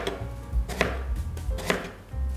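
A knife slicing through a pear on a cutting board, several crisp chopping strokes at an uneven pace, close and clear with no talking.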